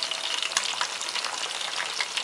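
Onions, green onions and peppers fry steadily in hot oil for Korean spicy oil, a loud, dense, continuous sizzle with small crackling pops and no talking.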